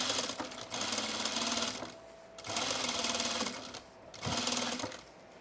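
A sewing machine stitches two rows around the hem of a sunblock top, running in three steady whirring bursts separated by short pauses, close and clear with no talking.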